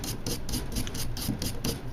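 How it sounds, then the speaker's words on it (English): A wire brush scrubs brake calipers during a caliper rebuild, giving regular rasping strokes about four or five per second, close and clear with no talk. "we're just going to sit here and wire brush them"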